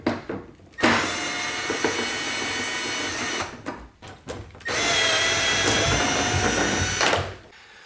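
A power tool whirs loudly in two sustained bursts as it removes bolts to free the fender on an E92 M3 track car, the runs separated by a short break with brief clicks.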